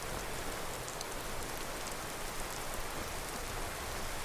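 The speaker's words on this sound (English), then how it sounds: "Well, it is raining." Steady rain falling in the video game Skyrim, a dense even hiss of drops hitting surfaces with no breaks and no voices.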